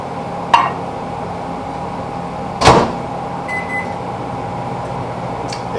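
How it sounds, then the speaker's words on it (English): An industrial prison microwave oven runs while cooking rice, a steady electrical hum with a couple of sharp clunks, likely the door or a latch, and a faint beep near the end. "So be careful cooking your food in the prison microwave."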